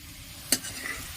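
Potatoes frying in hot oil in a wok give off a soft, steady sizzle, broken midway by one sharp metallic clink of a utensil stirring them.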